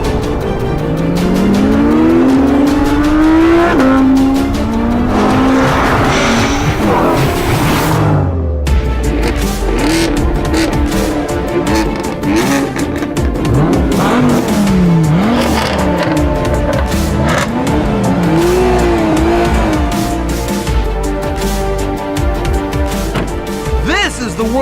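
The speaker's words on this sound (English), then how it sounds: "There's the impressively powerful and ridiculously light McLaren 570S. And here's the Teutonic stud, the Audi R8 V10 Plus." A McLaren 570S and an Audi R8 V10 Plus in a drag race: loud, continuous engine roar with rising revs and gear changes, a brief cutoff midway, then sustained high-revving drive over a steady background.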